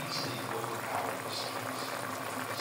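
Chicken feet simmer in a covered pot with Sprite, ketchup and a little vinegar, a continuous soft bubbling and gurgling that stays even and close throughout.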